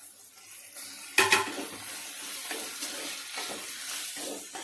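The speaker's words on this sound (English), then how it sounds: "So now I will add in the tomatoes." Tomatoes frying with minced pork for a pork and potato fry, stirred in a pan, a soft sizzle under a loud clatter of utensil on pan near the start, then quieter steady frying with light scrapes.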